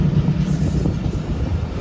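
Shalimar Express train rolling along near Hyderabad, a steady close rumble of wheels and carriages with a low continuous hum and no voices.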